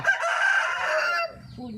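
A fighting-cock rooster on a farm lets out one loud, close, drawn-out crow lasting over a second, then a brief low sound follows.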